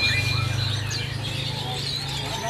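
Faint Javan bush lark chirps call out over a steady low hum, with no voices present.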